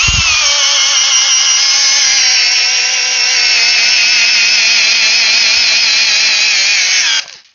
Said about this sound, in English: The ryobi PBLM or HM101 hammer drill.